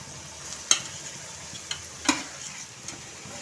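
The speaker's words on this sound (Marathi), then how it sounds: "आता ही भाजी चांगली अशी परतवून घ्या" Young jackfruit being stir-fried over high heat in a pan with onions, a soft sizzle broken by a few sharp scrapes and clicks of the spatula.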